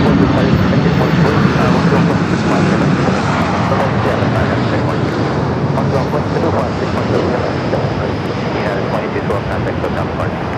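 Airliner at LAX airport, a loud continuous engine roar that stays steady throughout, with radio chatter faintly audible under it.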